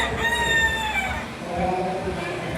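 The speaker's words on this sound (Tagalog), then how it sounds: "Ayan yung manok mga boss." Rooster crowing once at a poultry expo, a single drawn-out call at moderate distance over crowd murmur.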